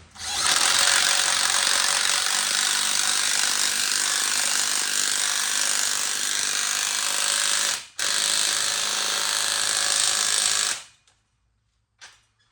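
Impact wrench tightening bolts on a sheep tractor build, a loud continuous buzzing rattle running for several seconds, a brief break, another burst, then a short final blip.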